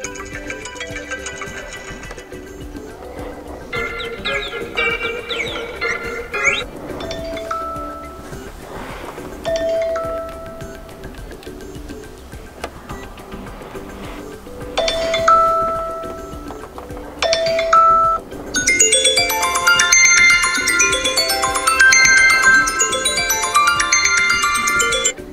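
iPhone 12 Pro ringtones play one after another, a string of chiming, melodic electronic tones in several distinct patterns with short pauses between them, growing brighter and busier toward the end.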